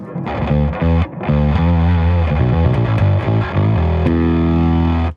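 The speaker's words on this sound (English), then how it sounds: "Or or turn it way up. So you got raging distortion." Heavily distorted electric guitar through an EBS Billy Sheehan Ultimate Signature Drive pedal turned up to high gain plays loud, sustained chords and riffs with a thick, saturated tone, ending abruptly.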